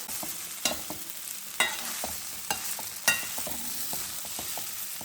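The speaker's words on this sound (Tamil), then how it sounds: "போட்டு இதில் ஒரு நல்லா கலக்கி விட்டுலாங்க" Crumbled idli being stirred in a hot pan for idli upma, with a steady sizzle under several sharp scraping strokes of the spoon against the pan, close and alone.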